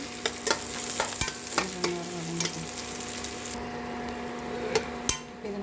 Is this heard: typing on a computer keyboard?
no